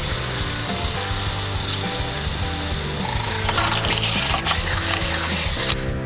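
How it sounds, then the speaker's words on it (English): A power drill with a 5/16 bit boring a hole into the metal frame of a Can-Am Maverick while fitting a bumper and bulkhead, a close, loud whining motor with high pitched squeal that dips and recovers as the bit bites. "we're gonna have to drill a hole into the frame to tie the bulkhead into the frame"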